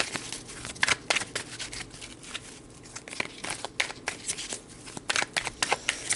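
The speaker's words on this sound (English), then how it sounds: "let's pull some tarot, a couple tarot cards to get more information about this" Tarot cards shuffled and pulled close by, with brisk riffling, sliding and papery flicks in uneven bursts and short pauses between them; no speech.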